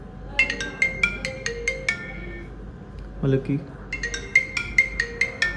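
A refurbished iPhone 7 plays its ringtone through its speakers: a repeating series of bright, plinking marimba-like notes, close and clear, pausing briefly while someone says a word before the melody resumes.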